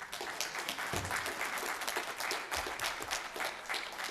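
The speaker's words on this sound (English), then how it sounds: "That deserves a round of applause right there." Audience applause in a Detroit City Council chamber after a testimonial resolution for a fraternity chapter, a brisk round of clapping with some louder individual claps, steady for about four seconds without speech.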